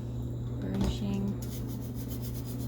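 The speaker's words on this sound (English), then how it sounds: "Burnishing." Glittered adhesive wrap on a 35 oz tumbler being burnished, a steady soft rubbing and rasping that runs continuously at close range with no talking.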